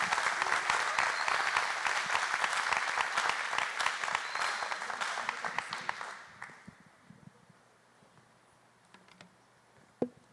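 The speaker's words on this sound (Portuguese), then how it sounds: "eu queria que você recebesse ele com uma salva de palmas aqui, André Nicásio." A church congregation claps and applauds loudly for several seconds, then the clapping fades out, leaving a few scattered claps and a sharp knock near the end.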